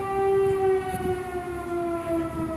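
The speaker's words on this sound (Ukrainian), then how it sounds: "Знову чуть повітряну тривогу" An air raid siren wails steadily at a distance in Zaporizhzhia, Ukraine, its harmonic tone holding a long sustained pitch with a faint low rumble underneath.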